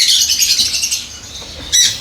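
Lovebirds (Agapornis) in an aviary with nests chirp and squawk continuously in a dense, loud chorus of high, shrill calls, with a fresh burst near the end and no talk.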